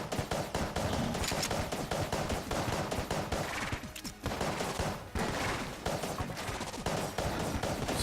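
Rapid, continuous gunfire from the Polaris gun in the Enter the Gungeon video game, a loud dense barrage of shots that barely lets up, with only a brief dip partway through.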